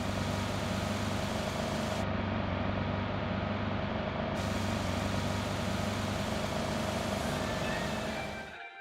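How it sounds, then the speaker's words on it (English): Muffled car engine from the driver's seat of a racing video game, its highs cut as if heard through the cabin's plastic, metal and glass; a steady continuous drone throughout, briefly even duller in the middle before fading at the end. "the higher frequency of the car's engines are reduced, which produces a much more intimate sound"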